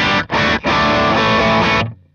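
An electric guitar plays through a NUX MG30 preset with amp modeling and an impulse response, giving a thick, heavily distorted tone. Two short chord stabs are followed by a long sustained chord that cuts off cleanly. No one speaks.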